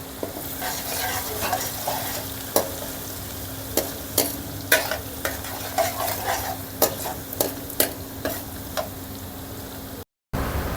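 Chopped onions fry in a pan for a carrot curry, giving a steady sizzle with a spoon scraping and clinking against the metal at irregular intervals, close and moderately loud, with no voices.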